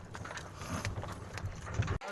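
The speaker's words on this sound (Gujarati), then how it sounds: "હવે જો બળદગાડું જાય છે" A bullock cart rolls past at dusk on a farm, with soft, fairly close hoof clops in an uneven rhythm under a faint background voice.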